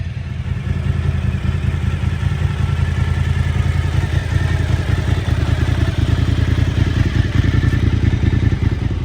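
A Suzuki V-Strom motorcycle idles as it warms up after starting, a loud, steady, close-up engine putter with a continuous mechanical clatter throughout.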